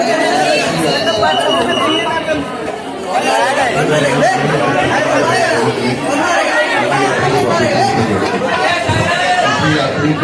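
Dense crowd of pilgrims at the Vaishno Devi temple shrine, a steady roar of overlapping chatter and voices filling the space throughout, close and loud with no single speaker standing out.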